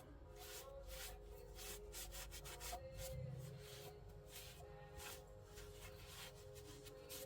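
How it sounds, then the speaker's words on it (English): A rag rubs wax down on rough chalk-painted furniture, giving a steady, close dry scrubbing and swishing with repeated strokes and no voices. "wipe the wax off"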